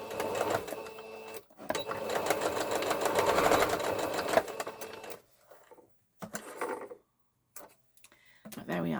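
A sewing machine stitches fabric for a Rocky Horror Picture Show costume, running in a steady rapid clatter for several seconds, then in short start-stop bursts, close and loud.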